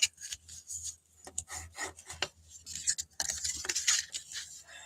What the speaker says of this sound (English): So I'm just going to burnish these.